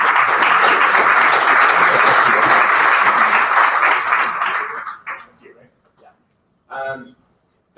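An audience at a live blockchain event breaks into loud, sustained applause to welcome a speaker. The clapping fades out after several seconds, and brief speech follows.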